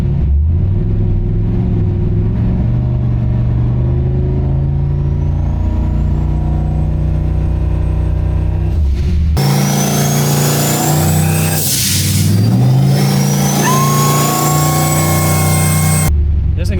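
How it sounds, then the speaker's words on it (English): A turbocharged Oldsmobile engine on a dyno revs steadily and loudly up close, with a whistling turbo whine that climbs, then a harsher surge partway through. "Listen to this turbo."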